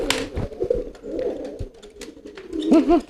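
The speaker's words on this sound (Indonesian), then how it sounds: "ini saya kasih contoh lagi merpati saya yang sudah fokus ke betina" A male pigeon focused on a female coos in soft, low rounded bursts near the microphone, with a clearer double coo at the end amid light rustling.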